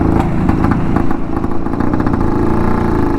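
A 44-year-old vintage Rajdoot 175 motorcycle engine runs loud and close, a continuous throbbing, rattling exhaust note with no pauses.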